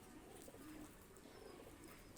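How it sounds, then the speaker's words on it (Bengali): A pair of golden pigeons, a male and a female, give soft low coos, faint and close, with no other sound around them. "এক পেয়ার গোল্ডেন কবুতর নিয়ে আসলাম"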